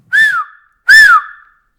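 A person whistles two short, loud rising-and-falling blasts close by, imitating a train guard's whistle, with a brief pause between them.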